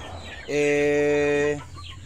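Sweater Gilmore gamefowl rooster giving one loud, close, drawn-out call lasting about a second, with quiet background before and after.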